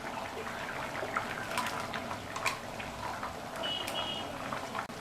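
Water splashes and gushes quietly into a mixer grinder jar, a soft continuous pour with small bubbly spatters.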